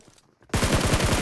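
Rapid automatic gunfire in PUBG Mobile erupts after a brief quiet moment, a loud, close, evenly spaced burst of about ten shots.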